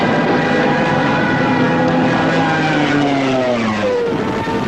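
Aircraft engines of approaching German Luftwaffe fighters drone steadily and loudly, with pitch sliding as the planes close in, a continuous engine roar without speech.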